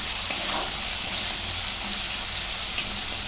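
Onion with ginger-garlic paste sautéing in a pan, a steady, loud sizzle and hiss with faint stirring scrapes, no voices.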